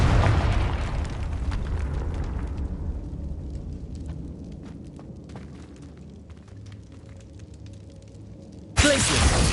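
A Confringo explosion spell in the video game Hogwarts Legacy bursts loudly at the start, then its rumbling blast decays over several seconds before a sharp new burst cuts in near the end.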